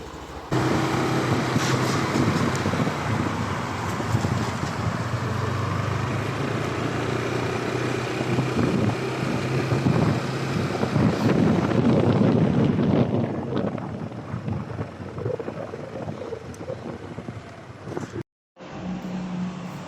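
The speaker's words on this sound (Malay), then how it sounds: "Kita pergi naik motor je" A motorcycle ride with steady engine drone and heavy wind buffeting the microphone, continuous and loud throughout, with a brief dropout near the end.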